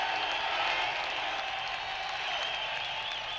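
At the 1954 Le Mans 24-hour race, a large crowd applauds as a Jaguar D-Type comes in to finish second. The clapping is a dense, steady wash that sounds distant and slightly muffled, with no single claps standing out.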